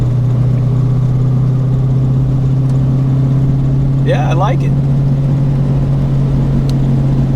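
Steady low engine drone from a car cruising in fourth gear at about 40 mph and 2,000 RPM after a 3.73 gear swap, running continuously with someone talking over it.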